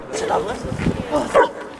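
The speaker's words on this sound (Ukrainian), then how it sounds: "Також кінолог продемонстрував заняття зі службовим собакою." A service dog barks and yips a few times during a dog handler's demonstration for school pupils in a schoolyard, the close, sharp barks mixed with people talking.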